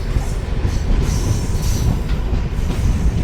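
A passenger train on the Secunderabad to Vijayawada line rumbles loudly and steadily up close at Chityala station, with a constant low roar of wheels and carriages and no voices.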